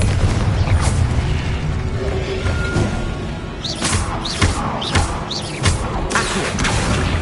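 Confringo blasting spell explosions in the Hogwarts Legacy video game, several sharp booming bursts and pops in quick succession over a dense, rumbling battle backdrop.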